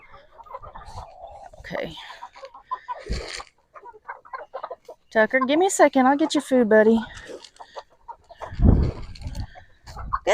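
Several chickens cluck and squawk close by in short bursts, with a person speaking intermittently between them.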